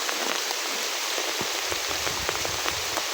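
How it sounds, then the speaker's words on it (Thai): Heavy rain pours steadily onto surfaces during a long downpour while clearing a grassy path to a farm field, a dense continuous hiss with scattered close drop impacts and no voices. "ฝนตกนี่บ่หยุดตั้งแต่บางทีแหละ"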